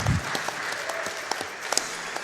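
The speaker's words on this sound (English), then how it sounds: "You may clap again" Applause from a live speedrun event audience after a completed stage of Freedom Planet, a steady, fairly close patter of claps with a few sharper individual claps standing out.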